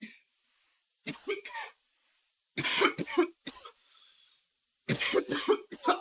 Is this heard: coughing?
yes